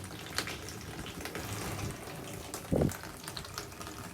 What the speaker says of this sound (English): So we're gonna put water in it, make sure there's no leaks